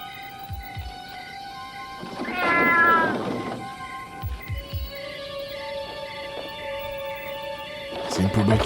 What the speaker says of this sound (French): C'est une poubelle qui fait miaou.